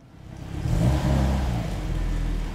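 A car engine rises and roars as it accelerates, a deep, rumbling rev building in the first second and then holding steady and loud nearby.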